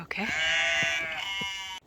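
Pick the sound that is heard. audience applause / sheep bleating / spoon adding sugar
sheep bleating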